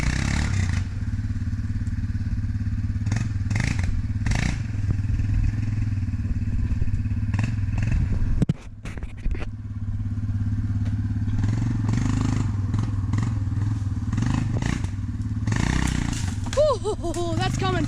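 A four-wheel-drive off-road vehicle drives a dirt trail, its engine droning steadily throughout, with thumps and clatters around the middle and near the end.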